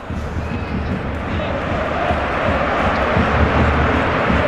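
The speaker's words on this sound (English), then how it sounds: "Massive applause around this sensational new stadium for Saúl" A large football stadium crowd applauds and roars for Atlético Madrid's Saúl in a match against Barcelona, a dense, steady wall of distant crowd noise that swells slightly and never breaks.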